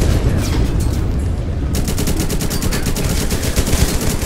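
Rapid automatic gunfire in the war video game Total Conflict: Resistance, a loud dense stream of shots with a fast, even rhythm over heavy rumbling battle noise and no talking.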